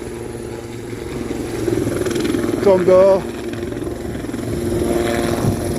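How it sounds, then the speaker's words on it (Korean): A forest fire patrol helicopter passes over a blackened, burned-out hillside after a spring wildfire. Its rotor and engine make a steady, broad drone throughout, and someone speaks over it. "산불 헬기가 와서"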